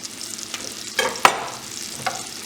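Onions and garlic dropped into hot oil in a pan for a chicken korma, a close continuous sizzle with a few sharp crackles and a spoon clack.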